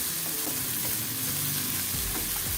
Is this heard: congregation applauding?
no